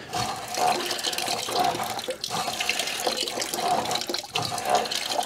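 Water runs steadily into a water heater tank as it is flushed out, a continuous, fairly quiet rushing stream with slight surges and no talking.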